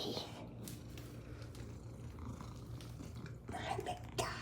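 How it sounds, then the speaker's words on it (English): Soft, close purring from a domestic cat, a low rhythmic rumble running steadily beneath a person's gentle talk, with a few small rustles near the end. "That's my silly kitty cat."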